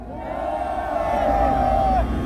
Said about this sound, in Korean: 우리 홍문종 공동대표님께 여러분 응원의 박수 부탁드립니다